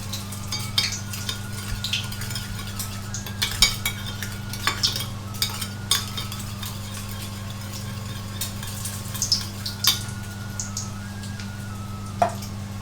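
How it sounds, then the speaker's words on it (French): A spoon stirs a sugar mixture in a pan for Thai-style tamarind egg sauce, making intermittent scrapes and light metal clinks over a low, steady hum. "Vous mélangez bien."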